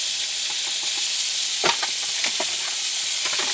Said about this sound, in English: And add the scallops, because this is all got to cook about the same time.